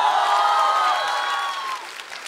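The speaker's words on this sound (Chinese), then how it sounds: "可以鼓掌了，谢谢大家" A studio audience at a Chinese stand-up comedy show applauds in a loud burst of clapping that fades away over a couple of seconds, with faint crowd noise underneath.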